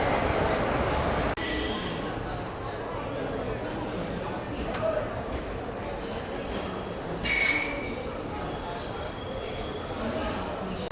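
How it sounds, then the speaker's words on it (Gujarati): A passenger train pulls into platform 1 on the Ahmedabad to Dwarka route, with rumbling wagons and sharp, high metallic wheel squeals rising over station noise while people talk nearby. "હવે આપણે આવી ગઈ છે આપણી ટ્રેન"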